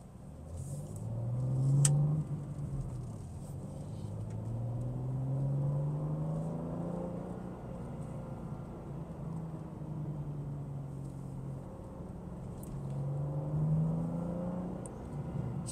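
A BMW M2 set to Sport Plus drives along with a deep engine and exhaust drone that swells in several throttle surges, heard from inside the cabin with no one talking.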